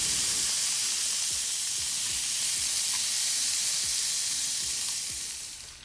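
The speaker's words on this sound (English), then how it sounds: "Add your onions and cook them until they become translucent." Onions fry in browned butter in a skillet, giving a steady, close, bright sizzle with a soft crackle throughout, with faint rhythmic clicks underneath, easing off slightly at the end.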